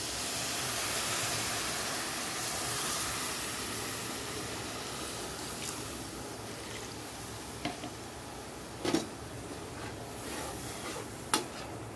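Water poured into a hot cooking pan gives a steady broadband hiss and sizzle throughout, with a few brief clinks and scrapes of a utensil near the end.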